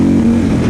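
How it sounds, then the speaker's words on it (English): A 2015 Harley-Davidson Street Glide engine holds a loud, high, steady drone against the rev limiter, wavering slightly in a brief close burst. "Yeah, rev limiter."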